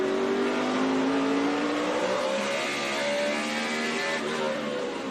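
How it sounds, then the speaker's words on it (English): A NASCAR race car engine at the 2012 Goody's Fast Relief 500, running at about 9,500 rpm: a loud, steady, close high-revving drone whose pitch slowly climbs, heard alone without talk. "Listen to that engine"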